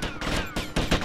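A quick volley of gunfire in GTA Vice City, with several sharp shots cracking in close succession about a fifth of a second apart.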